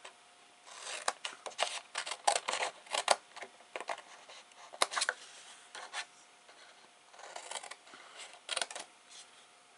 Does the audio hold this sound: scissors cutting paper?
yes